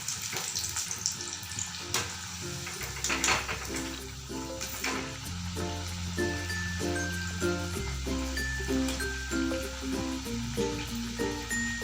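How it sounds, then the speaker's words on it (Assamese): Taro leaf pakoras deep fry in hot oil with a steady, soft sizzle running beneath louder background music throughout. "পকৰিকেইটা গল্ডেন ব্ৰাউন হোৱালৈকে ভাজি ল'ম।"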